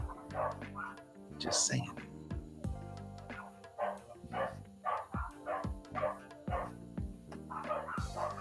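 Dogs bark and yip in short bursts that are repeated irregularly and somewhat distant. Faint whimpers come in between, under quiet speech from a person during an indoor stream.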